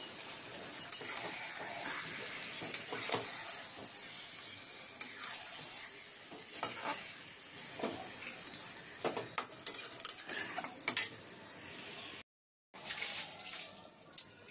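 Chicken sautéing in a pan for biryani, a continuous bright sizzle with intermittent spatula scrapes and clinks against the pot, close and moderate, briefly cutting out near the end.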